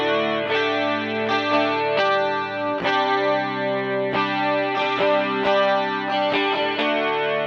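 Guitar chords played through an MXR Rockman X100 pedal, whose chorus-like modulated delay sweeps up and down to widen the tone; sustained, shimmering strums change every second or so, steady and loud with no voices.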